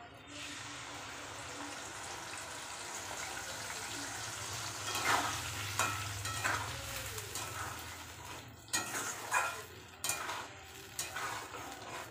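A spice paste of tomato, green chillies, garlic, ginger and onion fries in a pan, hissing softly under repeated stirring and scraping, with several sharper knocks of the spoon toward the end.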